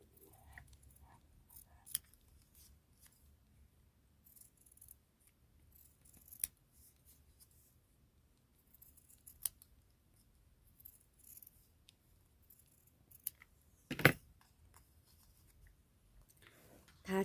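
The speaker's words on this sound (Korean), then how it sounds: "지름이 4cm인 원형 도안을 가지고서 아까 준비해 놓은 녹색 원단을 재단을 해줄 거예요." Scissors cut green fabric into a small circular piece for a handmade fabric carnation thank-you card, giving quiet, scattered snips with one sharper cut near the end in an otherwise hushed room.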